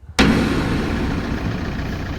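A faulty campervan engine starts abruptly and runs loudly with a rough, uneven rumble that holds steady, close by.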